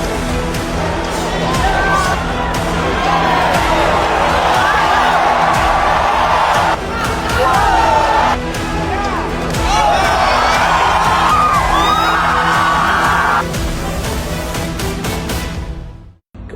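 A large crowd roars, clapping, cheering and whooping loudly in sustained bursts, with shouted voices mixed into the din before it cuts off.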